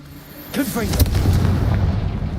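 Confringo fire spell in Hogwarts Legacy, a sharp whooshing cast followed by a loud blast and a rolling, crackling boom that lingers, with a brief vocal sweep just before the impact.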